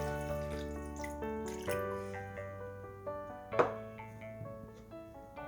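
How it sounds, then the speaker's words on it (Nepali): A little water is poured into a pot of cooking chicken biryani, giving a soft, close, uneven splashing and trickling with a louder splash near the middle. There is no talking. "मैले यसमा राखे थोरै पानी।"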